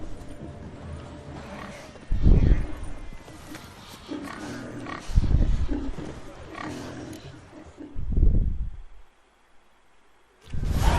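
Pigs being chased into a pen in The Witcher 3: Hearts of Stone grunt and squeal in loud bursts every few seconds, over a steady outdoor game ambience with quieter gaps between.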